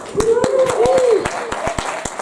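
An audience at a session of 60-second presentations claps in a sparse, steady rhythm of a few hands, heard beneath a person talking over it.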